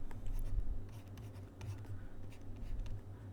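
Pen or marker writing out a Taylor expansion by hand for an orbital oscillation physics problem, a steady close scratching and tapping over low room hum, with no talking.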